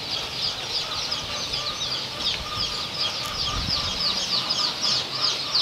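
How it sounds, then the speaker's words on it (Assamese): Dense, continuous high-pitched peeping from many ducklings at a poultry farm, close by and steady throughout, with faint low rustling underneath and no talking. "এইটো হাঁহ পোৱালি হয়।"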